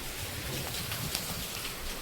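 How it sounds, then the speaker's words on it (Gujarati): Heavy rain falls in a village near Surat, making a steady, dense broadband hiss that is close and constant, with no talking. "ફૂલ વરસાદ ચાલુ થઈ ગયો છે"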